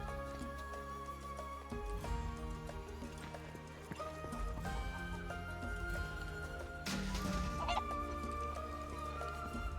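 Chickens clucking amid animal and farm sounds in the video game Final Fantasy 7 Rebirth, with a horse's clip-clop and neighing, over steady game music throughout.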